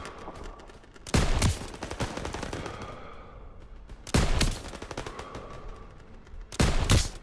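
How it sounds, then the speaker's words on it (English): Machine guns opening fire in Call of Duty WW2, three loud sustained bursts of rapid automatic fire about three seconds apart, with echoing battle noise and rumble trailing between them. "MG's open fire"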